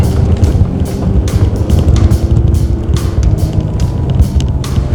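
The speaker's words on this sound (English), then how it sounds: "Try a little power slide on" A Ford Ranger XLS bakkie in two-wheel drive with traction control off, powering its back end out in a slide; loud, steady engine roar with wind buffeting and scrabbling tyre noise throughout, no talk.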